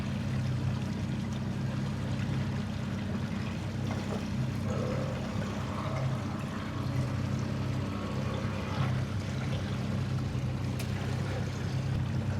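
A Calcutta catamaran powered by a pair of Mercury 150 outboards on a bay in Destin, Florida, with a steady, loud engine drone and water wash that holds evenly throughout.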